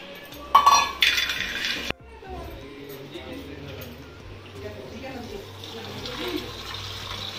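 A metal cooking utensil is rinsed under a running tap in a home kitchen while aloo tehri is being prepared: sharp clanks and scraping at first, then a steady rush of water.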